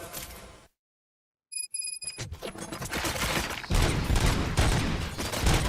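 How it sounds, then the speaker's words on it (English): Gunfire in the video game Robocop Rogue City: a short burst, a moment of dead silence, then a few sharp metallic rings. Rapid shots follow and swell into a loud, continuous barrage. "Gunshots? What's going on?"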